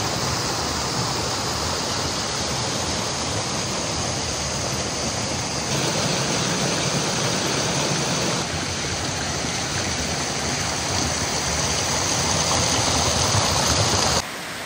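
Heavy rain pouring down in a dense, constant roar, like water gushing, steady and loud from start to finish with no talking.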